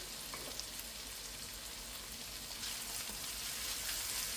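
Mung bean stew with tomatoes simmers and sizzles in a pot while being stirred, a steady close hiss that swells slightly toward the end, with no talking.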